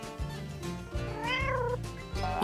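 A pet cat meows in a children's room over a steady background of music, with one long rising-and-falling meow in the middle and shorter calls around it.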